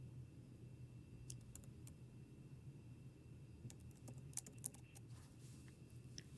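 Faint, sparse keystrokes on a computer keyboard come in short irregular bursts of light clicks against a quiet room hum, as card details are typed into a hotel booking form.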